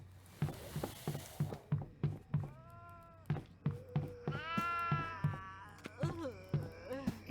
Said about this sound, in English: She let my goats out.